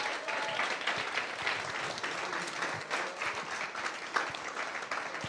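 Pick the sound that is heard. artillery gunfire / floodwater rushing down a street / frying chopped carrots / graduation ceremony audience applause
graduation ceremony audience applause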